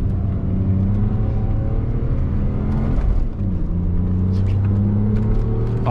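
A BMW Z3 2.2-litre six-cylinder roadster pulls hard in third gear, its engine note climbing loud and close, dropping briefly at a shift, then rising again in a strong, smooth howl.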